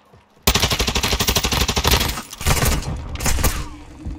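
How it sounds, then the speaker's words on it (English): Gunfire in Call of Duty Warzone 2.0 DMZ, a sudden burst of rapid automatic shots hammering close and loud, broken by brief pauses before more volleys rattle on. "I'm taking fire!"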